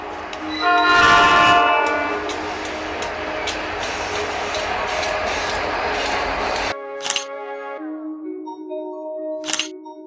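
K&O locomotive power move passing on the rail line, a loud rumbling engine with a long multi-tone horn blast, then after a sudden cut two short horn notes with camera shutter clicks, no talk.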